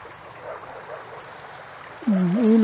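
Steady broadband rush of a river flowing at an outdoor riverside camping spot, moderately loud and continuous, with a tonal sliding sound cutting in over it near the end.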